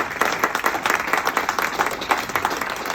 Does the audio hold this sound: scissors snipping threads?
no